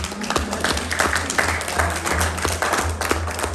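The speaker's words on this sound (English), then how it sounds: "we really need to give them a big hand of applause so far" A small audience at a Rotary club gathering on the Costa del Sol, Spain, applauds for Jess and Natalie, with steady close clapping that runs through the whole stretch.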